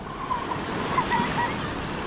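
Ocean waves break and wash continuously onto the shore at Goseong during autumn camping, a steady, fairly loud surf rush with faint voices underneath.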